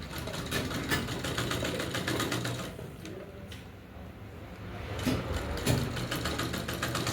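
An electric sewing machine runs slowly around the curved neckline of a katori-cut blouse, sewing the finishing seam along the edge, a steady rapid mechanical whir and clatter at moderate volume with a brief slowdown midway.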